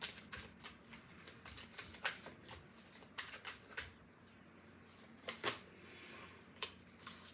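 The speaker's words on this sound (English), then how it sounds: "let's pull out a oracle card" Oracle cards shuffled by hand before a single draw, a steady run of crisp riffling flutters and soft slaps, close and quiet, with no talking.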